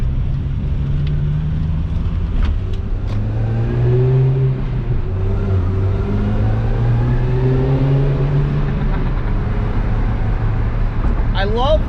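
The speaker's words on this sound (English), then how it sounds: "I love that supercharger." A supercharged 2005 Mini Cooper S JCW pulls hard on an open road with the windows down, its engine pitch climbing steadily through several gear changes under a constant road roar.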